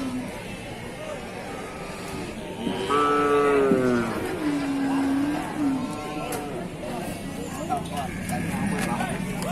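Cattle low in a livestock slaughter pen, long drawn-out moos rising over a busy background of voices, shuffling and passing traffic, moderately near and repeated a few times.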